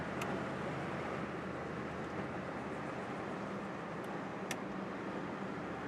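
A 1979 Ford Bronco's engine runs steadily while driving, a continuous broadband rumble and road noise with no talking, a couple of faint ticks over the drone.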